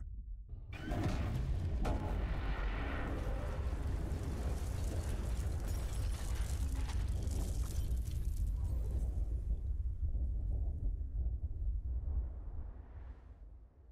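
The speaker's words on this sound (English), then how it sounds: "Oh, you mean the big damn explosion that lit up the sky?" A huge explosion lighting up the sky in the Borderlands 3 video game: a sustained, loud roaring blast with rumbling low end that holds steady for about eleven seconds before tapering off.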